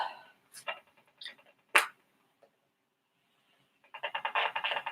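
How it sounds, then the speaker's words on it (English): A neighbour's smart meter emits its pulsing signal as picked up by a detector: scattered clicks and short bursts, then a rapid, steady run of beeping pulses at the end, fairly faint and with no talking. "Smart meters will do a bip, bip, bip, bip, bip, bip, bip. That's that signal"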